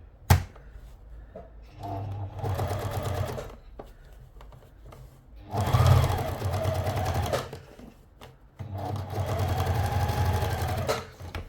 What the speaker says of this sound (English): I top stitch because A, it looks neater, it keeps the seams flat and it stops fraying internally.